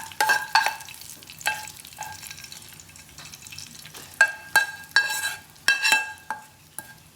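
A ladle stirs and mixes food in a pan, prepared as vegetarian Sri Lankan cooking, with scattered scraping and clinking strokes in bursts against a quiet background and no talk.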